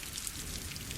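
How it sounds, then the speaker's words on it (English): Light rain falls as a steady, even hiss of drops pattering on surfaces, with no distinct thunder rumble in this short stretch. "Today we have a light rain and a rolling thunderstorm to help make you feel cozy"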